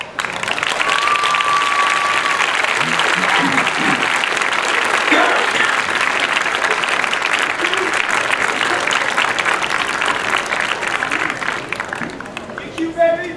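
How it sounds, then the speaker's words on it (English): A large crowd at a 2013 high school commencement ceremony applauds steadily for about thirteen seconds, a dense, sustained wash of clapping that tapers slightly near the end. "please rise and give your parents a big round of applause"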